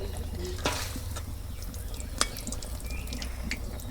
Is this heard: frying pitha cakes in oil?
yes